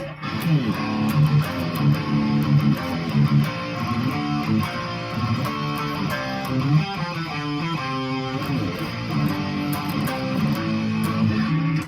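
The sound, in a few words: electric guitar verse riff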